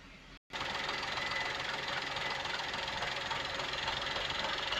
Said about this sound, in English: Previously the engine was shaking a little bit, but now it's working fine.